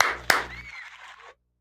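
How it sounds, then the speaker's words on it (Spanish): A short burst of applause from a live television studio audience opens with one sharp clap, then becomes a dense patter that thins and dies away after about a second. "un aplauso ahí para..."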